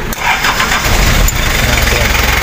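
A Daihatsu V82RH six-wheel truck's engine starts and revs hard, a loud continuous roar with rising pushes, while people talk over it nearby.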